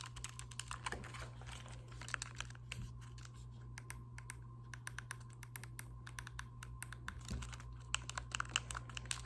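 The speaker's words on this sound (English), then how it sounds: "Makes a nice little click. These buttons are so nice and squishy." Old Nintendo controller buttons being pressed close up, producing soft, quiet, irregular clicks over a steady low hum.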